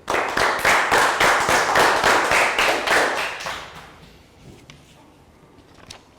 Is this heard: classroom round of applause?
yes